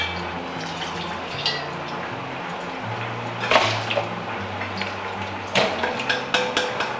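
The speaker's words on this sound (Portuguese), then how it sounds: "Deixa eu enxaguar aqui." Onion being rinsed under running water in a kitchen sink: a continuous stream of water with scattered clinks and knocks of dishes, a couple of louder splashes and clatters standing out near the middle and end.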